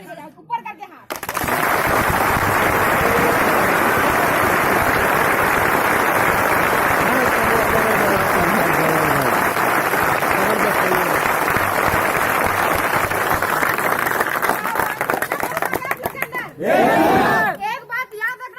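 A big meeting crowd claps hard with hands raised, a loud, sustained roar of applause mixed with shouts lasting around fifteen seconds, then tapering as a voice speaks briefly.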